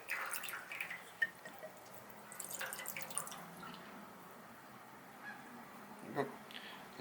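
Water drains and drips from a leaking CNC plasma table in a faint, steady trickle with a few brief splashes, set against low room noise.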